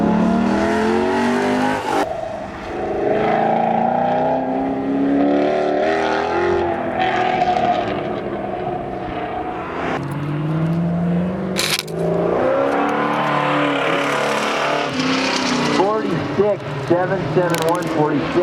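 Race cars at an autocross event at Tri City Raceway, including BMWs, with engines revving and accelerating hard and continuously close by, pitch rising and falling through the run while an announcer talks over it.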